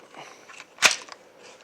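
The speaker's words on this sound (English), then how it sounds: "aim the gun, set it to fire, pull the trigger" A Crosman M4-177 multi-pump pellet gun fires once, a single sharp, close crack in a quiet setting with faint handling noise before and after.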